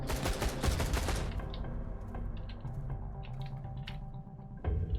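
Gunfire in the Sunkenland video game: a rapid burst of automatic shots opens, then scattered distant single shots follow over quiet ambience, with another burst at the very end.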